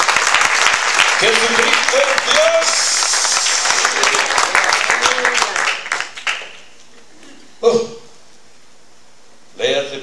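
A church congregation breaks into loud applause during a sermon while a preacher shouts over it, then the clapping fades to quieter scattered claps with short bursts of speech.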